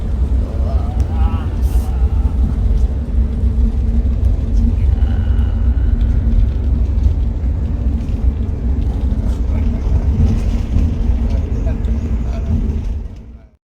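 Steady loud rumble of a bus cruising along the North-South Toll Expressway in Malaysia, a continuous low engine and road drone with no breaks, fading out at the very end; voices murmur underneath.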